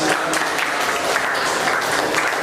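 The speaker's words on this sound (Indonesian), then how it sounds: "Beri tepuk tangan buat kalian." A classroom group claps after a student presentation, a dense, steady patter of many hands sustained loudly throughout.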